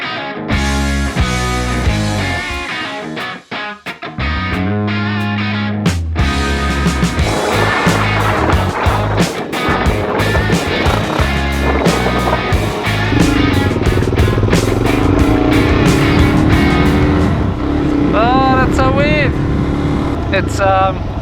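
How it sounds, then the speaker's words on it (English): A Suzuki DRZ400 dirt bike engine revs and pulls loudly and continuously up close while riding, with wind noise and shifting engine pitch, and a voice speaking over it at times. "Today I get to ride a DRZ400."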